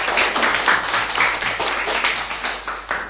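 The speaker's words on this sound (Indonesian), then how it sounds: "Berikan tepukan untuk mereka." A class claps for the winning green group during a Year 6 maths lesson, with a quick, dense patter of many small hands clapping close by and no talk over it.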